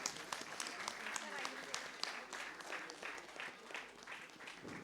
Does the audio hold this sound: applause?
yes